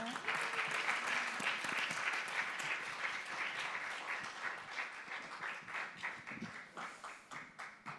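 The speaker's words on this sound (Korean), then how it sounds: "여러분 한 번 더 뜨겁게 박수로" An audience applauds warmly after a guest teacher's talk at a Korean lecture event, with dense, sustained clapping that fills the room and eases slightly toward the end as individual claps emerge.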